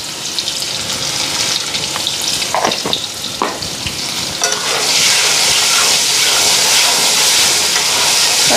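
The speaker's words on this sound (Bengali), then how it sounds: "এক তেলের মধ্যে মশলা ভাজলাম" Spice paste with dried chilli and chilli powder fries in oil. Stirring clatter and crackle come first, then the sizzle swells into a loud, steady, hissing roar.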